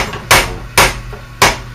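Blacksmith striking hot metal with a cross-peen hammer, three loud, sharp ringing blows spaced evenly about half a second apart, close by, with no talking.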